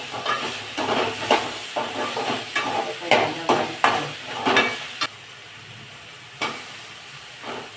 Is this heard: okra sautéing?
yes